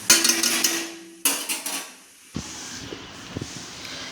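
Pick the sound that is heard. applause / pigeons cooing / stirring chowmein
stirring chowmein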